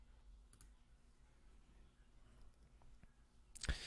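A computer mouse clicks near the end, one sharp close tap after a few faint ticks over quiet room tone, during calendar setup at a desk.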